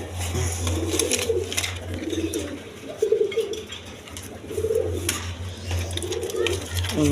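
A pair of healthy orange chila pigeons, a hen in front and a cock behind, coo again and again in a steady pulsing rhythm, close and moderately loud over a low constant hum, with no one speaking.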